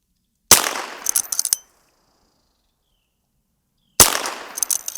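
Henry Mare's Leg .22 lever-action firing at six-inch steel plates about 50 yards away across a creek: two sharp cracks a few seconds apart, each followed by a brief clatter and faint metallic ringing, with silence between.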